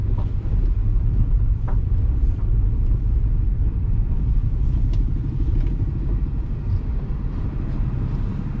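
A car travels along the Ratnagiri–Kolhapur highway, NH 166, with a loud, steady low engine and road rumble and wind buffeting that continue evenly throughout, with no voices.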